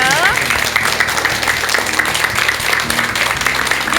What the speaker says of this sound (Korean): 큰 박수 한번 좀 부탁드리겠습니다.